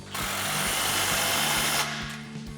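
A power tool runs in one steady burst of about two seconds, close and loud, tightening an exhaust clamp near the axle under a 2007-2013 Chevrolet Silverado 1500 during a dual exhaust install.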